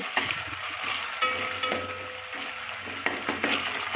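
Steady crackling sizzle of tempering spices frying in hot oil until red, for bitter gourd curry, with a few sharper pops and a faint stirring scrape, close by with no talk.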